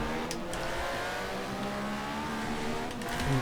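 A Jaguar E-Type race car engine sounds nearby on a circuit, a sustained, rumbling mechanical drone mixed with other racing engines, holding steady with a slight swell near the end.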